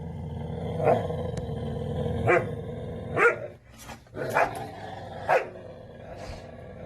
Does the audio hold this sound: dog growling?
yes